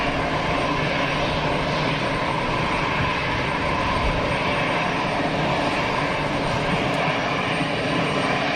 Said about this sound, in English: That's the inbound EasyJet from Edinburgh.